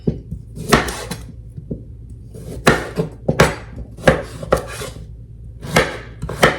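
A knife chops woody parts out of freshly harvested beets and cauliflower on a board, a series of sharp, close, irregular cutting knocks and scrapes, loud and alone.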